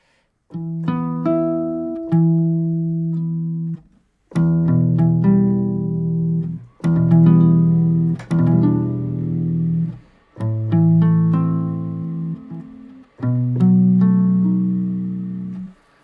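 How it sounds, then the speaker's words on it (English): Plucked archtop guitar chords picked up close and dry by a microphone, several sustained strums separated by brief pauses, warm and fairly intimate. "this is a mic on an Archtop guitar"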